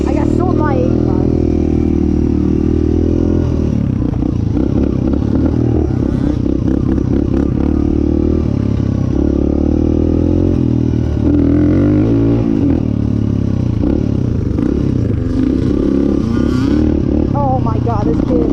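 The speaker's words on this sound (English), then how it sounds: "Look at Everett ride the 85" A Yamaha YZ85 dirt bike engine buzzes and revs steadily throughout while being ridden, loud and fairly close, with excited voices talking and cheering over it.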